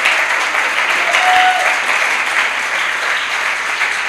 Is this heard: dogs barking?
no